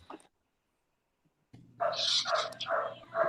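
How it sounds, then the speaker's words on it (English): A dog barks in a quick run of several yips, fairly faint and slightly distant, after a brief quiet stretch and with no talk over it. "That dog Yeah. barking."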